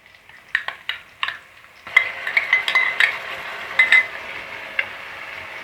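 Spatula stirring onion, green chilli and ginger-garlic paste in a pan for soya chunk biryani: a few sharp scrapes and clinks, then a steady run of close metallic knocks and scraping over a soft sizzle.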